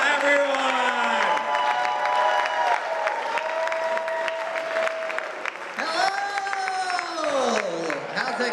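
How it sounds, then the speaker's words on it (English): Audience at a comedy show claps and cheers, with sustained applause under loud voices shouting and whooping in rising and falling tones. "Let's start clapping right now, everyone."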